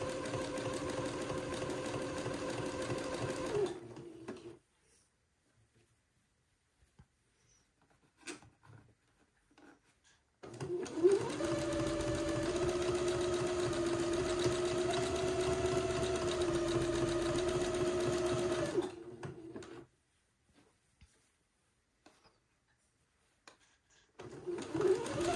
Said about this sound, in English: I'm going to zigzag this entre dos seam into place.